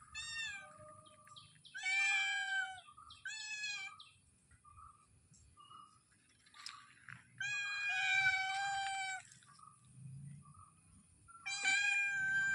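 Several kittens meow in repeated high, plaintive cries, some drawn out and wavering, coming in bursts with short quiet gaps, close by and fairly loud with no talking.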